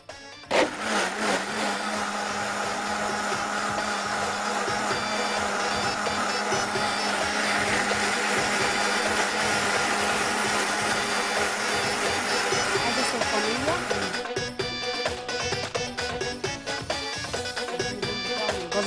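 A kitchen blender whirs steadily as it purées a sauce of carrots, tomatoes and cream, loud and close for the full length, its motor note shifting near the end.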